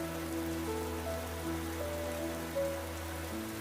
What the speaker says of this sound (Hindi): लेकिन बहुत देर हो जाती है और बारिश नहीं रुकती है।